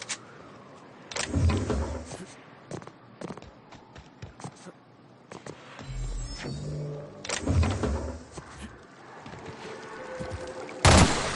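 Gunfire in The Outer Worlds: several separate bursts of shots and impacts arrive in uneven clusters, loud and close, with quieter gaps of game ambience between them.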